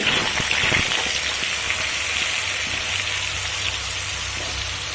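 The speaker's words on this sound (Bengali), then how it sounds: "এবার এখানে দিয়ে দেব কেটে রাখা আলু" Cut potatoes fry in hot oil over panch phoron, giving a steady, loud, close hiss of sizzling oil that runs unbroken, with a few faint clinks near the start.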